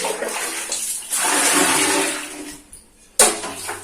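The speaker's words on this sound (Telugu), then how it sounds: "ఇప్పుడు ఇంకో వాటర్ పోసి కడిగేద్దాం" Water is splashed from a container to rinse a toilet seat during a bathroom deep clean: a loud rushing splash builds and fades over a couple of seconds, followed by a short sharp splash near the end.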